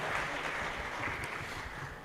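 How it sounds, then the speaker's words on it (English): Applause from an audience at a Pan-African youth adaptation forum after two songs, a steady dense wash of clapping heard at a moderate distance for the whole moment. "Thank you very much, and another applause."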